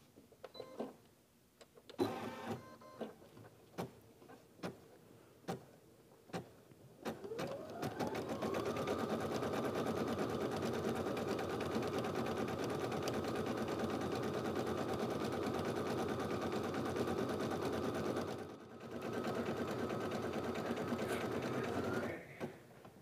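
Embroidery machine stitching a name onto stabilized pillowcase fabric in a hoop: a few clicks and taps, then a loud steady mechanical whir that briefly pauses and resumes.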